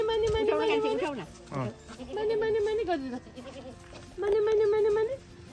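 A goat bleats repeatedly at a village house, loud and close, in several wavering calls separated by short pauses, with a voice in the background.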